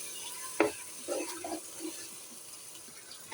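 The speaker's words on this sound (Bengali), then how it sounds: "এখন নাড়তেছি, আধা ঘন্টা কষবে আস্তে আস্তে" Meat with spices is stirred in a frying pan, with a sharp scrape of the spoon followed by a few softer stirring strokes over a faint, steady sizzle.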